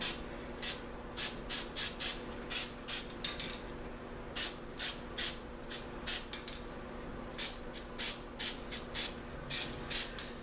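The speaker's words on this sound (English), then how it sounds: "you spray that black around and it sets them planets back off in the distance" Black spray paint hissing from an aerosol can in spray paint art, a series of short, sharp bursts in an uneven rhythm, close and fairly loud over a faint steady hum, with a short pause midway.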